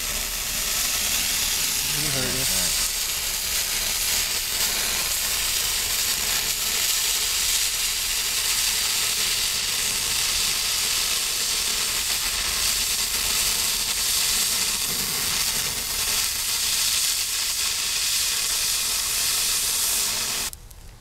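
A Patriot Hybrid exothermic cutting torch burns through metal in a loud, continuous roaring hiss and sizzle that runs unbroken for about twenty seconds before cutting off abruptly at the end, with faint voices beneath.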